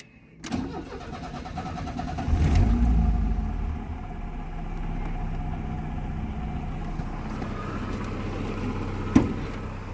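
A 1989 Volkswagen Voyage engine cranks and catches close by, revs up briefly, then settles into a steady, even idle that runs to the end.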